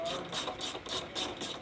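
Bolts on a panel being tightened down with a powered driver: a quick, rhythmic pulsing whir-rattle, about six even bursts in under two seconds, fairly faint and close.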